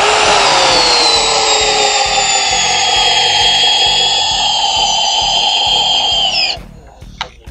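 A Metabo brushless cordless drill in drilling mode at first speed whirs steadily at a constant pitch for several seconds, then winds down and stops, followed by a brief click.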